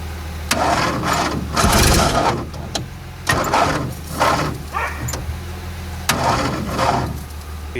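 An R10 car that sat unused for over twenty years cranks repeatedly on a weak battery with a fuel line blockage, giving loud, close, uneven bursts of starter churning that never catch.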